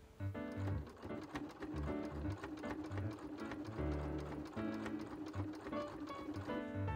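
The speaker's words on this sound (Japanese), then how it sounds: "端から 2mm のところをミシンで縫っていきます" Domestic sewing machine running a straight seam about 2 mm from the folded edge of a fabric strip, a steady close rapid whirring patter with faint mechanical clicks throughout, no voices.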